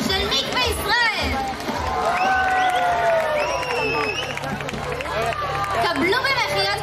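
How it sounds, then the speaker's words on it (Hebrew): An audience at a Shavuot ceremony at Mikveh Israel's agricultural school claps and cheers in a steady crowd wash while an announcer talks over it through a loudspeaker. "מחיאות כפיים לכל ענפי המשק החקלאי של מקווה ישראל"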